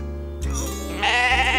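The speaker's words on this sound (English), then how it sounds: "That must be Alf's lost sheep" A sheep bleats loudly and close by, a wavering, drawn-out cry that swells and rises in pitch, repeated in quick succession.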